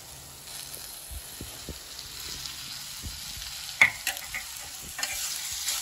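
A spoon stirs a mixture of rose petals, dry fruits and honey in a pan, making a soft, low sizzle with faint scrapes and one sharper clink midway.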